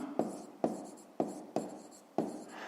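Pen strokes on paper while working a fifth-grade maths exercise: five or six short, close scratching bursts in an uneven rhythm, each starting with a sharp tap and fading out, in an otherwise quiet room.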